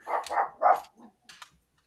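A dog barks three times in quick succession, close and fairly loud, then gives a few softer yips and whimpers before falling quiet.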